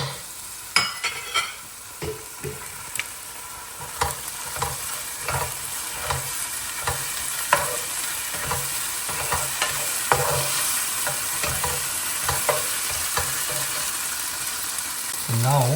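Ginger garlic paste sizzles and fries in a hot pan while being stirred for chicken chettinad, a steady broadband sizzle with repeated close scraping and stirring clicks throughout, no talking.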